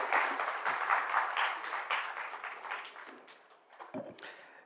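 Audience applause filling a hall after a talk at a stakeholders conference, a steady wash of many hands clapping that gradually thins and fades toward the end.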